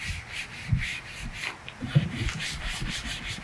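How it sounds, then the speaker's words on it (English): Dry, scratchy rubbing of a hand on rough unfinished wood, like sandpaper, in repeated strokes with a couple of louder swipes, close up and alone. "it sounds like sandpaper when I rub my hand on it"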